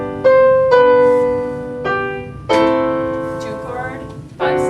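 Piano playing a ii–V7–I chord progression: several sustained chords struck one after another at an unhurried pace, each ringing and decaying, close and clear with no talking.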